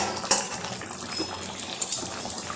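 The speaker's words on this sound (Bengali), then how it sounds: "এবারে আমি ঢাকাটা খুলে আবার একবার নাড়িয়ে দেব।" A pot lid lifts off mutton curry cooking over a big full-flame burner, then a utensil stirs inside the pot, with two bright metallic clinks and soft scraping and bubbling around them, close and without talk.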